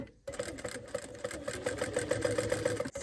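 Sewing machine stitching along a trouser waistband near a belt loop, running steadily at close range with a fast, even needle rhythm for nearly the whole time after a brief start.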